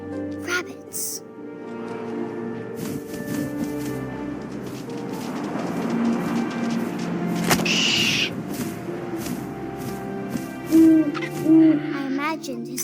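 Owl hooting in What Remains of Edith Finch, a few low hoots sounding over a steady wind-like ambience and a soft musical bed, with a couple of distinct calls near the end.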